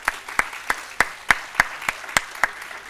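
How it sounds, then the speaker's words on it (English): Measured, evenly spaced claps, about ten sharp hits roughly a third of a second apart, ring out from an audience at a policy day closing session with an MPs panel. They sound close and fairly clear, with no talk over them. "a very strong round of applause for all of them"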